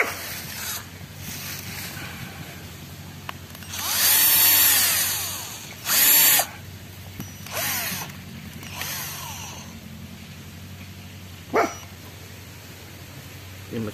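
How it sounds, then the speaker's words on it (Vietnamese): An air-powered drill bores taps into young rubber trees in a plantation, giving several loud broadband bursts of a few seconds each, with a short sharp hit later and quiet gaps in between. "Cái mũi khoan đầu tiên này, cái tháng khoan đầu tiên là đây là tháng khoan đầu tiên."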